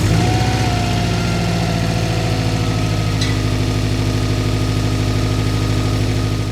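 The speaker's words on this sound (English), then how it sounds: "engine sounds really good" A crash-damaged Subaru STI engine idles steadily and close by, a low, even rumble with a faint rhythmic pulse and no speech.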